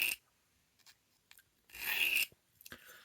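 A knife edge is stroked freehand along a Lansky sharpening stone, giving a few separate dry rasping strokes: a short one at the start, a longer, louder sweep in the middle and a brief scrape near the end, with quiet gaps between.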